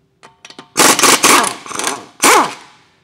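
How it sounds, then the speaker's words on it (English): An impact gun spins lug nuts off a car wheel during a tire rotation: a few light clicks, then three loud rattling bursts of hammering close up, each stopping sharply. "I'm gonna use my impact gun to take off my next wheel."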